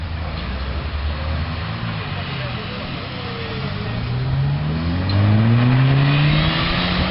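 A car engine revs hard at high RPM, its droning pitch climbing steadily as it accelerates, loud and close throughout.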